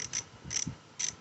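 A ratchet wrench tightens carburetor bolts on a Briggs and Stratton 7.25 163 cc engine from a Toro Recycler Smart Stow mower: three short, evenly spaced bursts of close metallic clicking.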